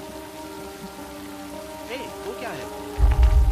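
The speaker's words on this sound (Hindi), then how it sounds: "बारिश बहुत तेज हो रही है।" Heavy rain falls as a steady hiss beneath sustained tones, with a brief voice in the middle and a heavier low rumble surging near the end.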